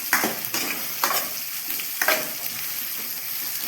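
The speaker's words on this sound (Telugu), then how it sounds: "ఉల్లిపాయలు వేగుతున్నాయి." Onions frying in a pan for a chanchala curry give a steady bright sizzle, close and continuous, with a few sharp stirring scrapes at regular intervals and no voices.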